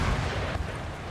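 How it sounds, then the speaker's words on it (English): A cannon barrage rumbles in the video game Empire Total War, a dense, loud, continuous roll of booming artillery fire that stays heavy throughout the short stretch. "And the barrage from the cannons coming in."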